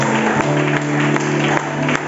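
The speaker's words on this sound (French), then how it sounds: "Acclamons bien le Seigneur" A church congregation claps together in a steady, rhythmic burst of applause, close and loud, with a sustained musical tone ringing underneath.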